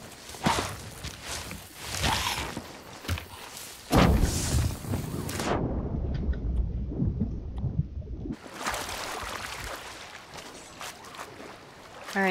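A thunderstorm in the pirate game Sea of Thieves brings heavy rumbling and crashing, steady rain and sloshing water. A quieter stretch in the middle is followed by the loud storm returning, with nobody speaking.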